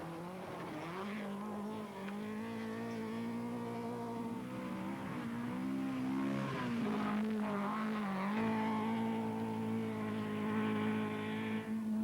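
Vauxhall rally car driving a stage at a 1982 rally, engine note rising and falling through gear changes, heard continuously at moderate distance with a steady droning tone.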